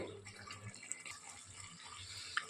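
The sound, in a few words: water poured into masala from the mixie jar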